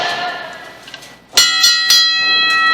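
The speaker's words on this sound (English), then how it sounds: "Opening bell here as these two young guns in the wrestling business look to showcase their talent." Opening bell of an indoor professional wrestling match, three or four sharp metallic dings struck in quick succession, loud and ringing out after a quieter stretch of crowd noise.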